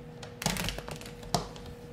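Soft papery riffling and light taps of tarot cards being shuffled by hand, in two short bursts, close and quiet.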